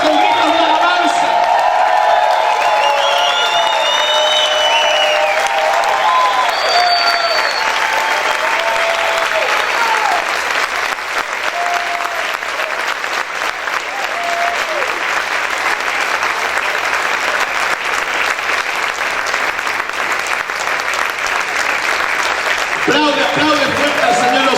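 Church congregation applauding loudly at a worship service, with sustained clapping and shouts of praise filling the room, while a voice speaks over the crowd throughout.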